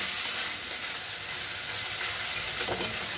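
Masala sizzles steadily in a pan while being sautéed for a village-style fish curry with cauliflower and potato, a continuous soft frying hiss with no talk.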